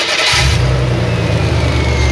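A Chevy Astro Van's engine, which has a misfire, catches and settles into a steady low idle rumble right after a short crank. The sound is loud and close, with no talking.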